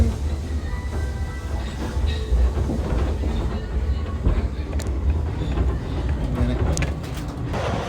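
A train runs on its rails with a steady, loud rumble and rattling clatter that stays close and continuous throughout, with no talk over it.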